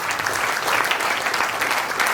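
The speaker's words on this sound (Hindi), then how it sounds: "एक जोरदार करताली हो जाओ" Sustained audience applause at a yoga camp gathering, dense and even clapping from a sizeable crowd that holds steady throughout without pause.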